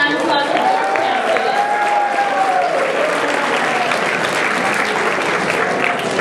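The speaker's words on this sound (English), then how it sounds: "Let's give a round of applause for Georgetown" Sustained audience applause for students at a Southern California fall state event, a dense wall of clapping that holds steady throughout, with a voice faintly audible over it near the start.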